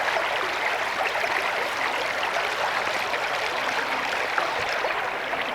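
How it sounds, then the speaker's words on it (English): Fast-moving stream water rushes steadily and close at a mudlarking spot, a dense continuous wash of broadband noise with no pauses and no voices. "Stream's moving hard."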